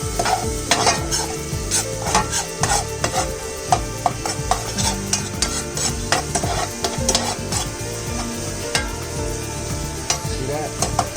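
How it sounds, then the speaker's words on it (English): Blackened seasoning sizzles in a butter roux made with salted butter while it is stirred briskly, producing a loud continuous fry with rapid, rhythmic clicks and scrapes of a utensil against the pan, close by and without talk. "I'm also gonna put some of this blackened seasoning on top of my roux"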